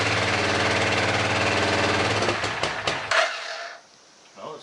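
An old Suzuki Boulevard motorcycle engine runs loud and steady at idle with a rapid rhythmic pulse, then sputters, cuts out with a few clanks, and falls quiet apart from faint handling noises.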